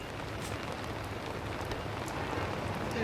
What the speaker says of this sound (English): we needed this rain